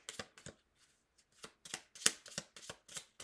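Tarot cards are shuffled close by, a series of quiet, crisp riffles and soft taps in uneven bursts with a brief pause partway through.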